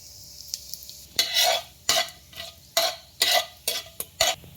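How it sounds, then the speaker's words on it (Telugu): Whole spices (cinnamon, cloves, shahi jeera, bay leaves) sizzle in hot ghee with a little oil for jackfruit pulao, close and fairly loud, in repeated bursts of crackling and spoon stirring with quieter gaps between. "నెయ్యి వేడెక్కిన తర్వాత చెక్క లవంగా షాజీరా పల్వాకులు వేసుకుందాం"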